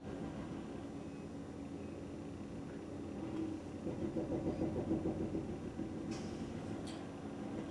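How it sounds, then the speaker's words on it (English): A large truck's engine rumbles steadily nearby while delivering a dumpster next door, swelling a little midway, with a couple of brief metallic clatters near the end. "It is my next door neighbor getting a dumpster delivered."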